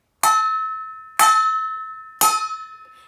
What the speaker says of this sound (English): if you hit it and lift off really quickly, it does create kind of a ringing sound